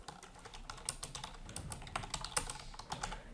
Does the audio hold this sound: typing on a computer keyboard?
yes